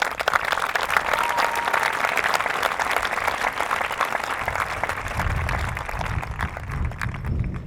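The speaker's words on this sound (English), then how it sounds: "Give yourselves a huge round of applause right now" Crowd applause at a 2019 high school graduation ceremony, dense sustained clapping throughout with a faint cheer early on, filling the hall with no speech over it.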